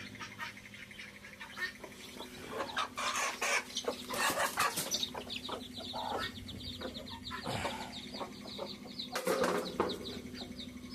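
Hens cluck and squawk in a busy yard, with brief bursts of flapping wings and scattered bird calls over a steady background hum.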